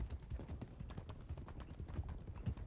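Hooves clip-clop at an unhurried walk in the Red Dead Redemption 2 roleplay world WildRP, soft and fairly faint, the beats spaced unevenly over quiet background noise.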